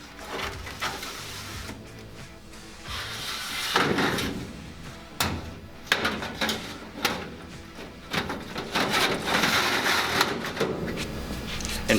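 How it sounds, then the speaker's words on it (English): A metal door on a ventless kitchen hood cabinet is swung shut among several clunks and mechanical bumps, with scattered handling knocks before and after the close. "And shut the door."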